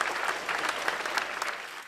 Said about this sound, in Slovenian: Poseben aplavz pa seveda tudi dirigentu Nejcu Kovačiču, ki je tako spretno vihtel ta